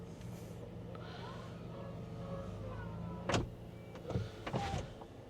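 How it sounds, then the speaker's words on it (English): A powered door on a Zeekr 7X electric car opens with a low motor whir, followed by a few sharp latch and door thumps near the end, close and fairly quiet. "you just push this button and the door opens"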